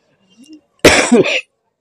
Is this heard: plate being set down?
no